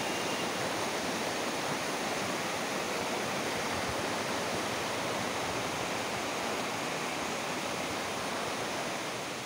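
Floodwater pours over the Sreekantapuram overflow in a dense, continuous rushing roar, loud and close, with no letup across the whole stretch and no voices.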